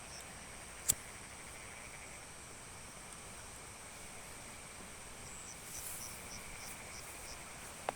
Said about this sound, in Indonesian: terdengar suara jangkrik,